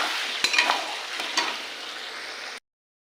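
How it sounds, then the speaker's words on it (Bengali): Mutton pieces sizzle steadily in hot oil with cooked-down spices for biryani, close by, while a few sharp scrapes and knocks from stirring break through before the sound cuts off abruptly. "এবার দিয়ে দেবো মটন। দেখছো, ভালো করে মাংসটাকে কষে নিই।"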